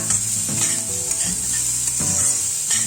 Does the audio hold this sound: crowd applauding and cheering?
no